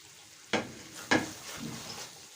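Ginger chicken with green coriander stirred in a sizzling pan, two sharp scraping strokes followed by a softer third over a steady close frying hiss.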